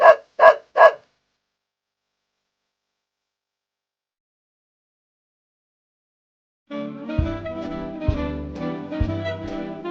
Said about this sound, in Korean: 흰 눈이 온다고 반갑다며 멍멍멍 같이 놀자고 꼬리치며 멍멍멍